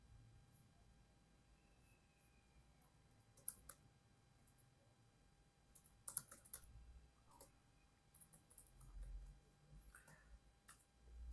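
Keys on a computer keyboard are tapped faintly while JavaScript code is typed, coming in sparse clicks and then quicker bursts over a quiet room background.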